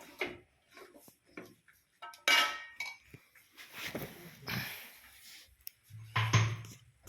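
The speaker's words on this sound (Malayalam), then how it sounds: "അതുപോലെ നന്നായി യോജിപ്പിക്കുക." Wedding-feast-style pomegranate (Ganapathi lemon) pickle being mixed in a bowl, giving scattered clinks and scraping clatters of utensil against the dish, close by with no talking.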